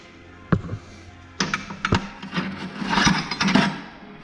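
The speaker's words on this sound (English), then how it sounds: "Got a little bar, should pry right off." An old brake caliper on a 1983 Mustang GLX convertible is worked off with a pry bar, giving several sharp metallic knocks and clunks followed by scraping and rattling, close and uneven, with no talking.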